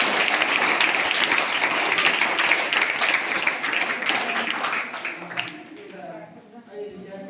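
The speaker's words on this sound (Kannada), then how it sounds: "ಮತ್ತೊಂದು ಸಲ ಜೋರಾಗಿ ಚಪ್ಪಾಳೆಯನ್ನು ತಟ್ಟಿ" A crowd at a temple wedding festival applauds loudly and steadily for about five seconds, then the clapping fades out and a voice speaks.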